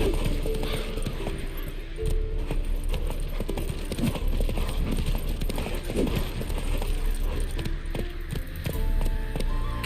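Horse hooves galloping in The Witcher 3 on PS5, a continuous rhythmic clip-clop of a running horse over a low rumbling game ambience.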